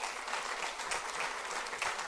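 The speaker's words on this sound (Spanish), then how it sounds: "Dele palmas al Señor." A church congregation applauds to praise the Lord with a short, fairly soft wash of many overlapping hand claps at an even level and no speech.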